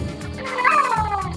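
A house cat gives one drawn-out meow that rises and then falls, with a wavering, almost speech-like tone, close and clear.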